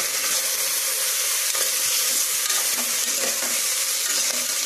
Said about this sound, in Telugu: ఉల్లిపాయలు అయితే ఈ విధంగా ఉడుకుతూ ఉన్నాయి.